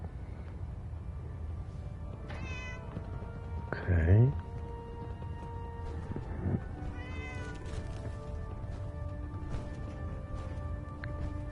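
A cat meows in Fallout 4 with several short close calls, the loudest in the middle, over a quiet game ambience while a person speaks briefly.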